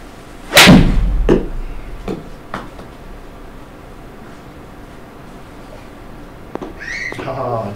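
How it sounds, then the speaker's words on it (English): A lob wedge golf shot from about 100 yards on a simulator skills challenge gives one sharp, loud impact thump early on, followed by a few fainter knocks and quiet room noise. "100 yards, probably the last shot for my lob wedge here."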